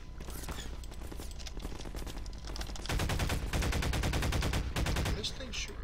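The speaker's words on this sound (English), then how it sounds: "Let's go with the rifle for this." Sustained automatic rifle fire in Half-Life 2, rapid rattling bursts running nearly continuously and loud, getting denser partway through, with game sounds underneath and no talking.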